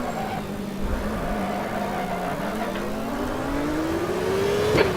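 A CART 1998 race car in the Automobilista video game on the Detroit street circuit, its engine droning and then climbing in pitch as it pulls out of a downshift to first gear, loud and continuous.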